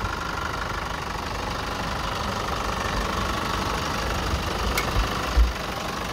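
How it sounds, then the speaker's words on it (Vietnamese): A 2017 Chevrolet Colorado pickup with a 2.8 diesel engine idles in a steady, smooth, close drone with a light knocking texture, plus a soft thump near the end. "Máy nổ rất là êm"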